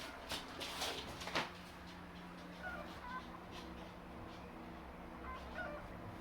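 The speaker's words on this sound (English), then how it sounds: "Hold on, my chickens are making a noise." Chickens clucking and squawking in agitated bursts, fairly faint and distant, over a steady low hum.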